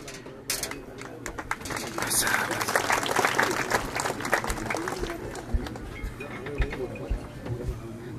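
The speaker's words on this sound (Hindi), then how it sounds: "तालियों की गड़गड़ाहट कम आती है" Applause at a commemorative birth-anniversary ceremony: a crowd claps steadily for several seconds, a dense patter under a public-address voice and general hall noise.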